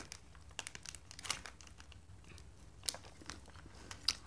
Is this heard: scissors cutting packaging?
yes